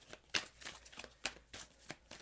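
Tarot cards being shuffled by hand for a reading, giving repeated soft riffling bursts with irregular gaps between them. The bursts are close and quiet.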